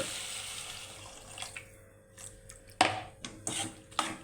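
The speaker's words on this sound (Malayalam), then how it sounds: "ഞാൻ ഇതിനകത്തേക്ക് വെള്ളം ഒഴിക്കുകയായിരുന്നു ഞാൻ ഈ പച്ച വെള്ളം ഒഴിക്കത്തില്ല തിളപ്പിച്ചാറിയ വെള്ളമാണ്" Boiled and cooled water is poured into a pan of green theeyal curry, giving a faint trickle and then a few soft splashes and clinks of the pan, quiet and close.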